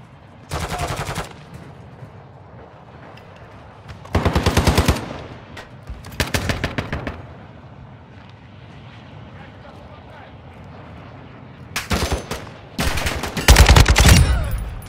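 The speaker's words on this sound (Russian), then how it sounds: "Я просто слышал стрельбу." Bursts of rapid automatic gunfire in Warzone DMZ erupt in several separate volleys, loud and close, with quieter ambient rumble between them.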